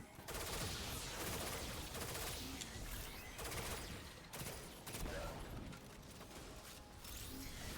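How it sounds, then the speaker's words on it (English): Burst pistol firing in the Destiny 2 video game comes as faint, rapid clusters of shots blended into dense mechanical game noise, with short dips between volleys. "Just a simple burst pistol."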